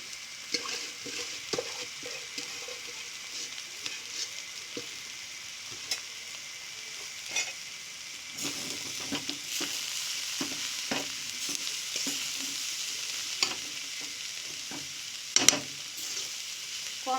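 Kolai greens, fresh village leafy greens, frying in a pan, with a steady soft sizzle throughout and repeated scraping, clattering stir strokes from a utensil, close and moderately quiet, no talking.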